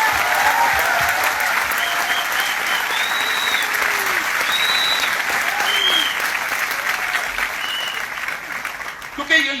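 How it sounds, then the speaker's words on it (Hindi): An audience at a talk claps for a woman in a loud, sustained round of applause that carries on steadily before tapering slightly at the end. "मेरा ख्याल से जोरदार ताली होनी चाहिए इस लेडी के लिए।"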